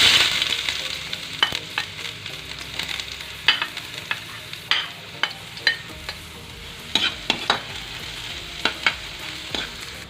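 Chopped ginger sautéing in a pan for miso sinigang, a steady close sizzle broken by repeated sharp scrapes and clacks of a spatula stirring, no voices.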